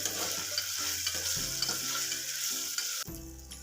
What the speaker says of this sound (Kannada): ಗೋಡಂಬಿ ಹಾಕ್ಕೊಂಡು ಕಂದು ಬಣ್ಣ ಬರೋವರೆಗೂ ಚೆನ್ನಾಗಿ ಫ್ರೈ ಮಾಡ್ಕೊಳ್ಳಿ